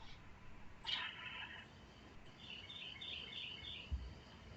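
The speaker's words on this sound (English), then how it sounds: "Dang old birds chirping, dang old spring." Birds chirp outside on a spring morning, small high twittering calls coming in short bursts, faint and distant behind a quiet indoor background.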